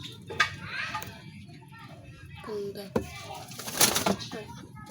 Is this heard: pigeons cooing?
yes